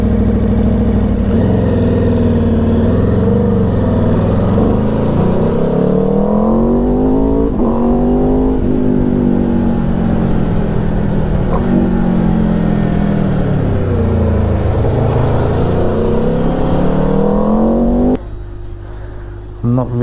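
An Aprilia RSV4 Factory superbike fitted with an Akrapovic exhaust accelerates hard, its engine note climbing and falling through the gears, loud and close with wind rush throughout, and a rider talking over it.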